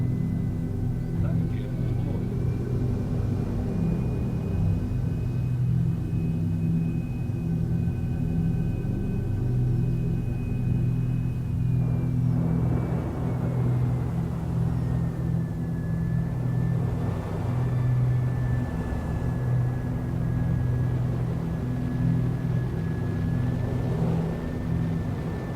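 Spaceship cruising low over a planet's surface beyond the city areas in the Star Citizen 3.0 game, a steady rumbling engine drone with a gliding whine that slowly drops in pitch, continuous and fairly loud throughout.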